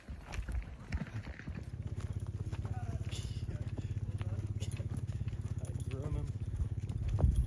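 A horse named Chavez clip-clops at a steady walking pace along a road during a cattle drive. The even hoof beats are close and continuous, with a few other sounds and brief movement noise mixed in.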